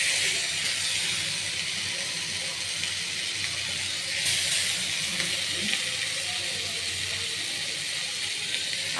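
Garlic paste sizzling in a pan of browned fried onions while cooking bhuna khichuri, a steady loud hiss running throughout with no talk.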